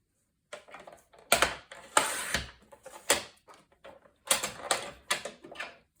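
Paper trimmer slicing paper into 2-inch strips, a series of sharp close clicks and scraping slides with quiet handling noises between them.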